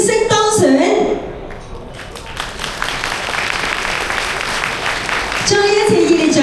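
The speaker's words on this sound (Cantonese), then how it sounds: "再一次熱烈掌聲祝賀新一屆嘅會董" Applause from an audience at the tenth inauguration ceremony of an automotive battery and tyre trade association, a steady wash of clapping in the middle, with a voice speaking over the start and end.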